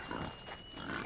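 Wild boar piglets grunt in the game Assassin's Creed Odyssey, a dense, steady run of low snorting grunts at moderate level with no pause.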